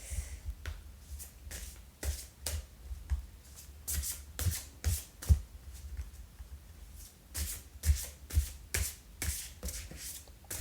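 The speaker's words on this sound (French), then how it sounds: "on va tirer une carte au hasard" An animal oracle card deck is shuffled and cards are drawn, giving a run of crisp, close flicks and slaps at an uneven rhythm; no voices are heard.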